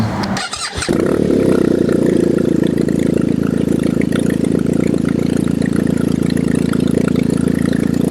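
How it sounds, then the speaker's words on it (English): A cold BMW R1250/R1200 GSA motorcycle engine with an SC-Project exhaust catches after a short cranking sputter and then idles loudly and steadily up close, with a deep continuous rumble. "that's on cold tick over, cold tick over."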